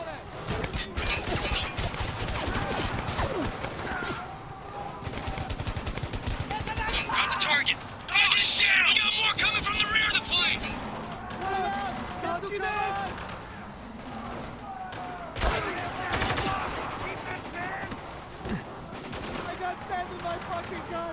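Dense machine-gun and rifle fire rattles almost nonstop through a Spec Ops: The Line firefight on Xbox 360, with heavier bursts in the middle and shouted talk running over the shooting.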